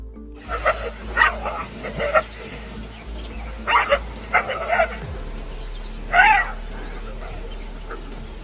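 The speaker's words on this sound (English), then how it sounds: "a pack of wolves chased away a pair of honey badgers when they tried to mess around their den site" A pack of wolves drives a pair of honey badgers from their den site, giving several short bursts of barking and yipping at middle distance, separated by pauses over a low steady background.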